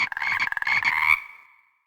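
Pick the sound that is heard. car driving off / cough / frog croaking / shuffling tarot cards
frog croaking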